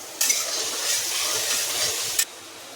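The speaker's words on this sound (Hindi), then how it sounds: "देखिए तेल गरम हो गया। अब जाएगा इसमें लहसुन।" Garlic dropped into hot oil for a yellow potato curry sets off a sudden steady sizzle that starts sharply, holds level for about two seconds and cuts off abruptly, close and fairly loud with no talking.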